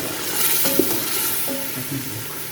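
White beans (lobia) frying in a pan while being stirred: a steady close sizzle with scattered soft scrapes and clinks of the spoon against the pan, alone with no talk.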